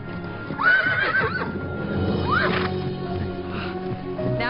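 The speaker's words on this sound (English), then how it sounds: "Squeeze your heels and take him to a trot." Horse whinnying twice during a riding lesson as it moves into a trot, with clip-clop hoofbeats steadily underneath; the neighs are loud and close.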